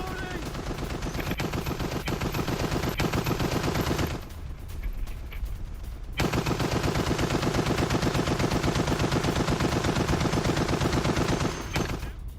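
Rapid automatic gunfire from a BMP-3 infantry fighting vehicle in a war zone in Ukraine, sustained loud bursts with a short lull before the firing resumes.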